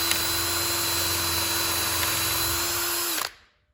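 A power drill boring a 7/64-inch pilot hole at an angle into wood for a garden bench, a steady close motor whine for about three seconds before cutting off abruptly into silence.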